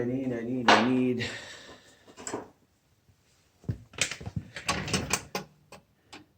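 A wrench works on a 7/16 bolt on a Craftsman snowblower, making a few close metallic clicks and clatters in short bursts. Someone talks over the start, and a quiet gap falls in the middle.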